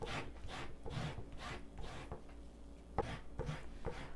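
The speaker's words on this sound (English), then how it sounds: "I did use a microplane to zest the oranges" Oranges are grated against a microplane zester in a kitchen, giving a soft, rhythmic rasping with repeated even strokes, close and quiet.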